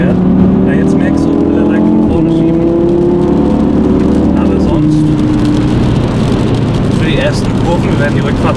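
A 2023 Audi TT RS engine is heard from inside while driving. It pulls loudly through the revs, and the pitch drops sharply at each upshift, about twice. A voice talks over parts of it.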